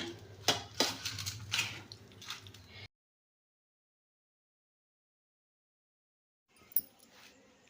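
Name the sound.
plates being set out for a meal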